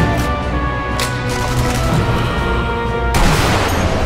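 Sniper rifle fire in the video game Sniper Elite V2: a few sharp, loud reports ring out over a constant game-background rumble, the last one striking hard and lingering.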